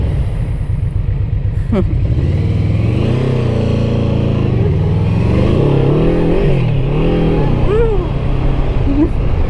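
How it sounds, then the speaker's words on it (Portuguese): A Yamaha VMAX 1700 motorcycle engine rumbles loudly up close and revs repeatedly, pitch rising and falling with each twist of the throttle. "A dar aqui uma gazada."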